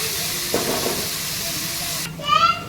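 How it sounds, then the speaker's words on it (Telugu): Onions fry in oil for a mutton curry, a steady close sizzle with stirring, swelling into a louder hiss near the end. "ఒకసారి మంచిగా ఇవి కలుపుకొని ఈ ఆనియన్స్ మంచిగా రెడ్ కలర్ వచ్చేంత వరకు ఫ్రై చేసుకుందాం ఆయిల్లో."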